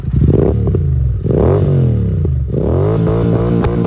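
A Royal Enfield GT 650 (Continental GT 650) fitted with a Gursewak Big Shot aftermarket exhaust revs loudly and close, its deep twin-cylinder note rising and falling through several throttle blips with steady low rumble throughout.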